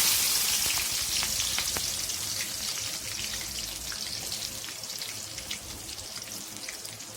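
Green chillies and onions fry in oil in a kadai with a dense, crackling sizzle full of small pops, loud at first and easing slightly over time.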